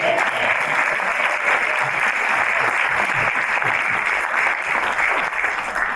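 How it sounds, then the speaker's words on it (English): A festival audience at the Nantucket Book Festival claps in a sustained, full round of applause, steady and loud for the whole six seconds, with no pause or fade. "give her a round of applause"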